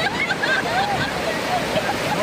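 Seashore waves wash in a continuous broadband surf roar, close and steady, with voices of people chattering and calling over it.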